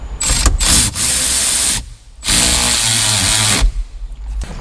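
A power tool drives a 10 mm Allen bolt back into a Dodge Charger steering column in two loud, sustained whirring bursts, each running close to two seconds, separated by brief pauses.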